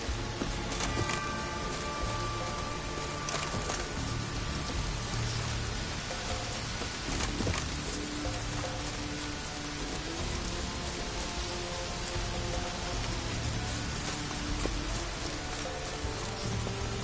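Steady rainfall in the video game The Witcher, a dense even hiss of drops pattering on surfaces, continuous and fairly loud with scattered brighter splashes throughout.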